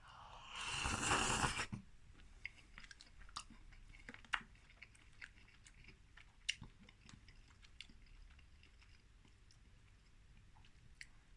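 Someone eats King Pot Noodle original curry flavour: a loud rustling burst at the start, then close, quiet chewing with scattered small crunches and bites at an irregular pace.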